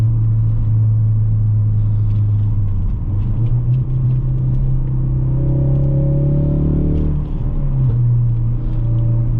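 A 2017 Ford Focus RS engine and exhaust heard from inside while driving, a loud steady droning rumble with the pitch rising and falling as the revs change, no talking.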